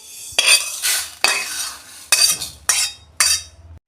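Lightly roasted moong dal is tipped out of a pan in about five sharp bursts of scraping and rattling, close and loud, with short pauses between.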